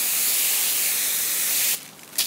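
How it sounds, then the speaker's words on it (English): A garden hose sprays water to rinse a scrub brush used for cleaning a tire with Purple Power, a loud continuous broadband hiss that cuts off near the end, followed by a short final burst. "now, I'm just gonna hose off my scrub brush"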